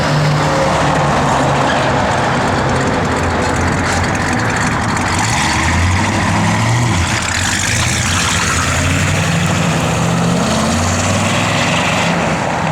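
A 1972 Oldsmobile 442 engine runs steadily and loudly, its continuous rumble filling the whole stretch without any voices.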